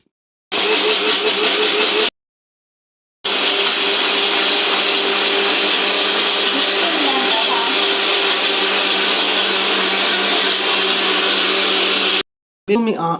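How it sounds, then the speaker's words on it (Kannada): A mixie grinding dry coconut and onion together: a loud, steady motor whine that runs briefly, stops, then runs for about nine seconds before cutting off, followed by one short final burst. "ಈಗ ಇದನ್ನೆಲ್ಲ ಸೇರಿಸ್ಕೊಂಡು ಒಟ್ಟಿಗೆ ಮಿಕ್ಸಿ ಗ್ರೈಂಡ್ ಮಾಡ್ತಾರೆ"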